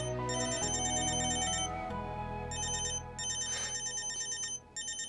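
A telephone ringtone repeats in bursts of bright electronic warbling tones, with short pauses between rings, loud and close over a sustained low background hum.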